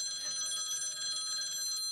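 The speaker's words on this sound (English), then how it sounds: "Is my phone ringing?" A telephone ringing in a horror film, a bright trilling electronic ring with a fast steady pulse, heard alone.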